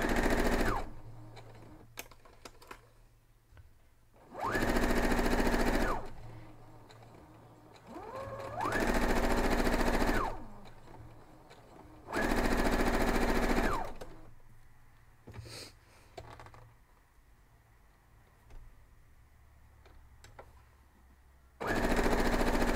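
An electric sewing machine stitches quilt block pieces for a double pinwheel mug rug, running in four loud whirring bursts of a few seconds each, separated by quieter gaps of fabric handling and clicks.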